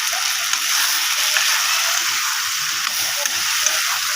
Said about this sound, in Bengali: ভালো করে সয়াবিনটাকে মশলার সঙ্গে ভালো করে কষিয়ে নেব।